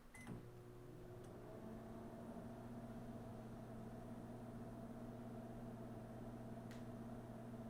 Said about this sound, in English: Start the microwave and swirl the mix.